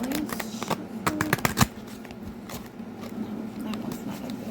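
Close, crisp riffles and flutters of a tarot deck bought at an oddities expo being shuffled, a quick cluster of card snaps in the first two seconds followed by quieter scattered rustles over a low hum.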